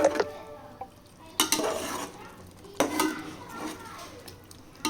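Chicken biryani with mint and coriander simmers in a pot as a spoon scrapes and clinks against it in three distinct strokes over a low, quiet bubbling.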